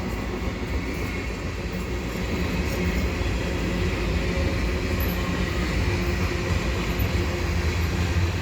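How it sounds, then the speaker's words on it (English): A steady low rumble and rolling clatter of a long eastbound CN general manifest freight train moving along the tracks, slowing, continuous and fairly close, with no voices. "the train is slowing as it reaches the tracks like at the Y"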